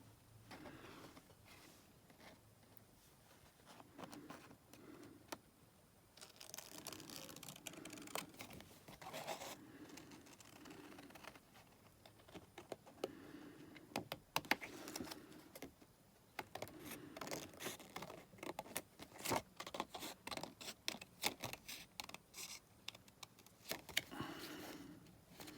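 Scissors snipping out a pair of Blythe doll fairy wings, quiet close crisp cuts coming in irregular bursts with short pauses between strokes.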